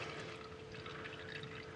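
Old hydraulic fluid drains from a Branson 3520R tractor's transmission, a faint continuous trickle and light pouring patter into a catch pan, with no voices.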